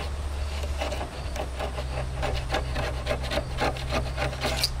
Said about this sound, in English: we're going to take our utility knife and just scrape it off